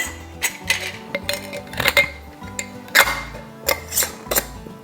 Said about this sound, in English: now that we have the rims wiped off, we're going to put our lids on.